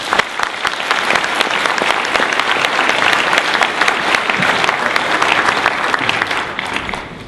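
An audience applauds to welcome speaker Keith Collins at a talk on the evolution of analytics, a loud, steady wash of hand claps from a large crowd lasting several seconds and tapering slightly at the end.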